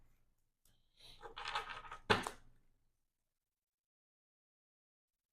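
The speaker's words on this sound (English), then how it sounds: "let's shuffle up our player deck here" A deck of Marvel Champions playing cards being shuffled by hand, a brief close riffle and rustle of cards followed by a sharp snap, then silence.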